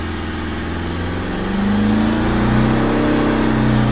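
A car engine revs under a Dinobox electronic throttle controller, its steady idle drone climbing in pitch and loudness as the revs rise, close and continuous without any talking.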